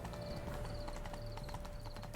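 Geralt's horse in The Witcher 3 trots with a steady, even clip-clop of hooves that carries on throughout, set against a constant game soundscape with no talking.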